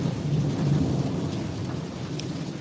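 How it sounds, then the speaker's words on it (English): A thunderstorm with heavy rain hissing steadily and low thunder rumbling through it, continuous and fairly loud, with no voices. "I didn't even know this storm was coming"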